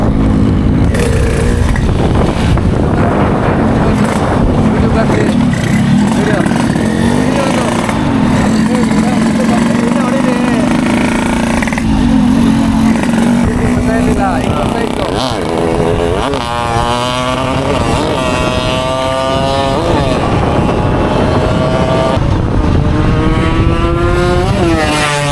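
A Yamaha RX two-stroke motorcycle is ridden fast on a highway, its engine buzzing loud and continuous with rising revs and wind rush, while a rider talks over it.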